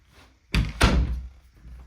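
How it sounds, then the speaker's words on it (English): A repaired interior house door that had been rubbing on its paint now swings shut with two close, solid thumps in quick succession, alone and without talking, and the latch and frame settle afterward. "And now when we close the door,"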